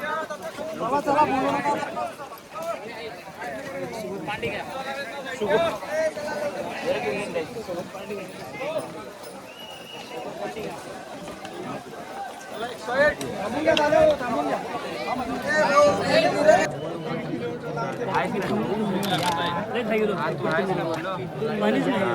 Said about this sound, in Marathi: खूप गर्दी झाली आता उतरण्यासाठी.